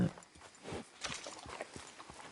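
Horse hooves clip-clop at a walking pace in Red Dead Redemption 2, a quiet, steady run of soft evenly spaced hoofbeats with faint ambient background.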